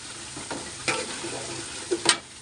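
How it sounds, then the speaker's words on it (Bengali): Crab stir-fried in a pan gives a soft sizzle with a few scraping stirs of a utensil against the pan, quiet and close, with no talking. "এখন ওরে সুন্দর করে আমি কষাবো ভালো মতো।"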